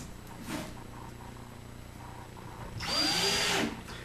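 A power drill whirs briefly, then runs in a louder sustained burst near the end while driving screws during kitchen cabinet assembly, close by over faint room noise with no talking.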